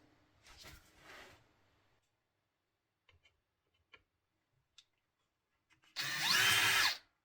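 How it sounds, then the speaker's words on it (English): A 10 mm drill bit bores into a metal pedalboard. A short, loud, close power-drill whine comes near the end, after a few faint ticks and brief low rumbles. "I have a 10mm drill bit, so I'll start with that"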